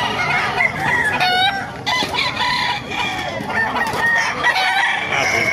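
A Talisay gamefowl rooster crows loudly up close, with clucking and other fowl calling in a busy yard.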